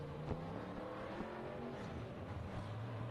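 Poorhouse Modified race cars lapping River City Speedway during a heat race, a steady loud engine roar with a car sweeping past and fading, no talk over it.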